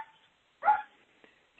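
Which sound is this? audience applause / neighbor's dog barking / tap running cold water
neighbor's dog barking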